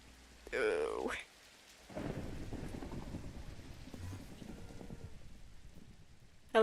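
Rain and thunder in a Minecraft storm: steady rain hisses throughout as rumbling thunder rolls beneath it, with a sharp burst near the start and another loud hit at the end.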